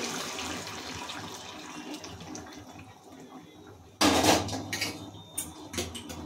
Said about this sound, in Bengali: এবার দিয়ে দিচ্ছি গরম জল